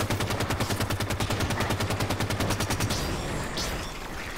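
Rapid automatic gunfire in Halo 5, a loud even burst of evenly spaced shots lasting about three seconds, then fading into softer in-game effects.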